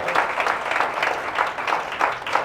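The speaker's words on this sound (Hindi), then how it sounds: "जोरदार तालियां आप सारे के सारे लोगों के लिए" Audience applause at a direct selling business seminar, a steady wash of clapping from a crowd sustained throughout, loud and dense with no talk over it.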